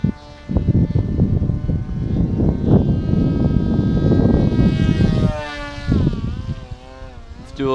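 A foam FT22 RC airplane's electric motor and propeller make a loud, close buzzing whine at about one-third throttle during a slow pass, with pitch bending up and down as the plane passes.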